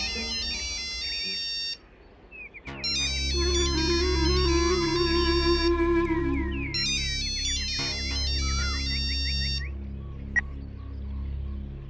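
A mobile phone ringtone plays loud and close: a repeating electronic melody of bright tones over a pulsing low beat, with a brief pause before the tune starts again.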